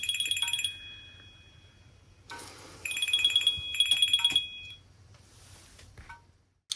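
Electronic phone ringtone chiming in short repeated bursts of bright melodic tones, loud and close, with pauses between rings and a quiet room hum underneath.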